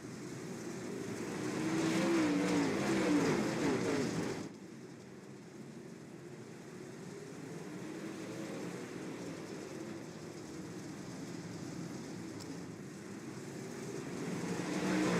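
Dirt track race cars running a lap at Huset's, a loud engine roar passing close then fading into a continuous, more distant drone of several cars circling, building again toward the end.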